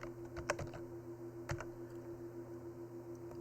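Keys tapped on a computer keyboard while a heading is entered in a Word document, a short burst of quick clicks followed by a couple of isolated taps over a steady background hum.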